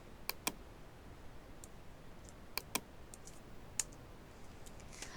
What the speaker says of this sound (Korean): 엔터를 눌러서 완료하겠습니다